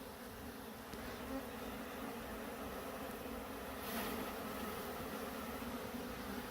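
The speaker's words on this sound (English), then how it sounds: "See, there's some bees right here" A thick, continuous hum of numerous honeybees buzzing nearby around a hive, unbroken and even throughout.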